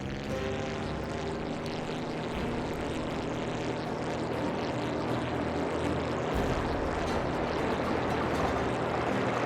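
Propeller aircraft engine in a flying video game, steady and loud throughout as the plane flies through rings, a continuous droning hum with a faint rushing wash over it and no talk.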